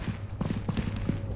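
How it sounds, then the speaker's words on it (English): Soft, squishy footsteps in the video game Content Warning pad along in an uneven rhythm over a constant low background drone, faint and muffled. "I heard it's like squishy footsteps."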